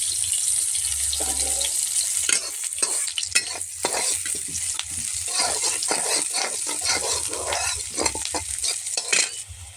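Onions and green chillies fry in oil in a kadai, a loud close crackling sizzle broken by repeated scraping strokes of a spatula stirring through the pan.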